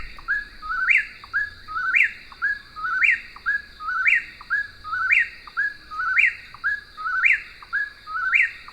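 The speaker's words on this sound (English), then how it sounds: "the song of the whippoorwill" Eastern whip-poor-will singing its three-note song, a clear repeated phrase about once per second, steady and rhythmic, close and fairly loud with an insect drone beneath.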